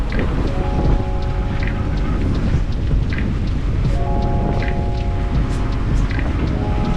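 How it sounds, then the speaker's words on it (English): Heavy rain pours steadily on a sailboat at sea during a windy squall, a loud, dense wash of drumming drops with wind, and faint tonal rigging or instrument beeps repeating in the background. "We're right in the middle of the rainstorm now."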